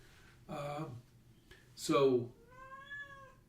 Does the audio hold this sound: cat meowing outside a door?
yes